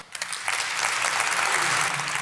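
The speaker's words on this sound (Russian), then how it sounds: "Мадлен Олбрайт, аплодирующая Бани Аль-Абед" An audience applauds after a speech calling for an end to war and for children's education, a steady sustained clapping that swells quickly and holds loud and dense throughout.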